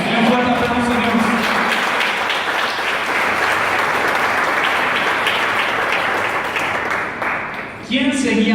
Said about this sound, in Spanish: Un fuerte aplauso a Dios.